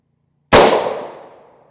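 One sharp, loud gunshot of a 4.6 mm round fired at an armor plate, a sudden close crack followed by a decaying ringing tail, with no talk.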